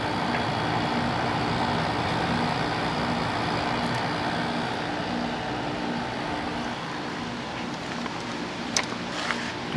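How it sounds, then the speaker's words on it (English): A 1995 Frigidaire Signature 2000 5450 BTU window air conditioner with a General Electric motor runs as a steady, close whirring hum, with a few faint clicks near the end. "It sounds nice though. It's a General Electric motor."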